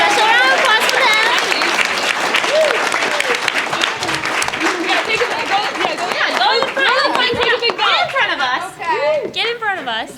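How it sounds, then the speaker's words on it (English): Convention panel audience applauding voice actors on stage, a dense, loud wash of clapping with cheers, whoops and excited voices throughout, easing slightly near the end. "Special round of applause for them."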